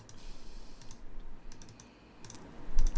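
Clicks from a mouse and computer keyboard at a desk, a few crisp taps and short bursts of key presses, close and moderately quiet, with no talking.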